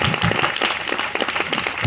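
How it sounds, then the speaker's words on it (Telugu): A church congregation claps loudly and continuously in a dense burst of applause, with a murmur of voices underneath. "బిగ్గరగా చప్పట్లు కొడతాను."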